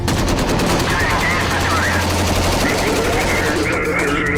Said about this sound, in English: another bro of mine's laying down fire, and I start firing.